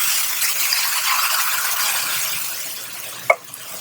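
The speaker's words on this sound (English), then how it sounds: "It's going to deglaze the pan." Coconut milk hitting a hot pan beside frying salmon with ginger and garlic, a broad hissing sizzle that fades slightly, then a sharp clink of a utensil near the end.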